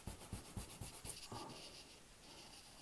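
A kneadable eraser rubs charcoal marks off drawing paper: a short series of soft, close scrubbing strokes in a quick rhythm, then a fainter continuous rub trailing off.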